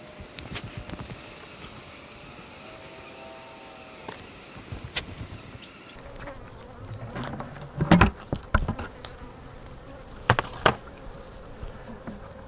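Bees buzz steadily around an opened hive beside a liquid feeder, with a few close insect drone passes and some louder handling knocks and thumps toward the end.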